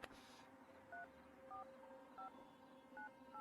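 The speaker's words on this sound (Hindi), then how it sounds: "तू फोन लगाएगा" Touch-tone telephone keys dialed one at a time, producing four short paired beeps at a steady interval over a faint background hum, with no voices.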